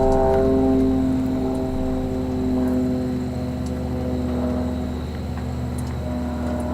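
Propeller-driven aerobatic plane flying a routine, a steady droning buzz with strong harmonic engine tones, loud and continuous with slight swells in pitch and level, no talk.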